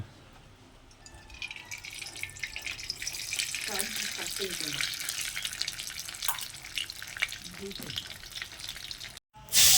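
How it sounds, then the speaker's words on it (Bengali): Chopped onion, garlic paste, cumin and ginger pastes, green chili and crab legs hit hot mustard oil in a home kitchen, a hissing sizzle that swells after a quiet start and carries on under a speaking voice. "পেঁয়াজ কুচি, রসুন বাটা, জিরে বাটা, আদা বাটা, কাঁচা লঙ্কা, আর কাঁকড়া ঠ্যাংরি দিয়ে দিলাম সর্ষের তেল।"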